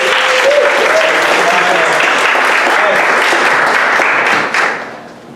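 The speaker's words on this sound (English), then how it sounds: "Please give a round of applause for Chase." An audience at a theater show applauding a playwright: loud, dense, sustained clapping that holds steady, then quickly fades away at the end.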